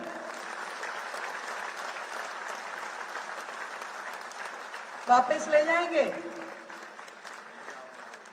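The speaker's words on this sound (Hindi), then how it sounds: "आप सबके लिए तालियां कम है भाई।" Applause from a crowd at a public launch event for university electric buses, a steady distant wash of clapping, with someone speaking loudly over it near the end.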